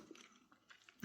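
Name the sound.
chewing peppermint gum from a UK ration pack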